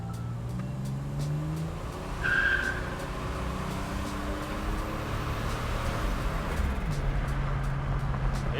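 1987 Buick Grand National turbo car accelerating from a rolling start while building boost, a steady engine drone with rising tones and a brief squeal, heard from inside the car.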